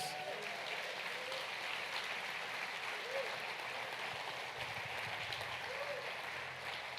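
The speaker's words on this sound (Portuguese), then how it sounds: "Quem pode dar um aplauso ao Senhor Jesus?" A church congregation at a conference session applauds, a broad steady wash of clapping with a faint murmur of voices underneath, sustained evenly throughout.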